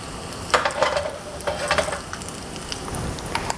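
Close, steady sizzling as cumin seeds and curry leaves temper in hot oil for aloo fry, with crackling pops and light stirring scrapes against the pan throughout.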